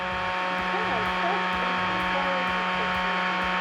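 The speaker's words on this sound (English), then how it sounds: "Now I put it in the way of the heat gun." A heat gun blows steadily on a vinyl plank stair nosing, a constant close whooshing hum with a tonal whine, running unbroken throughout.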